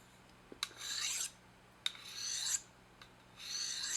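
Slow rasping strokes of a serrated knife edge drawn across a sharpening stone, three long scraping passes each opened by a sharp tick, close up and alone in a quiet room.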